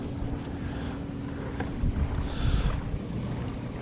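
An electric trolling motor drives a small boat on open water near an island campsite, giving a steady low hum under gusting wind and water noise, with no talking.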